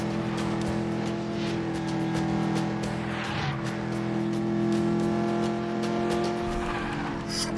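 Car engine from the Medal of Honor Warfighter driving sequence through rush-hour Dubai traffic, a steady, loud droning hum that holds without a break, with faint tire noise and no talk over it.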